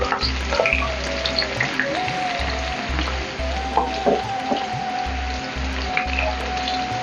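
Spinach pakoda batter sizzles and crackles in hot oil in a kadai, a steady close frying hiss with small pops, while a low intermittent hum runs underneath.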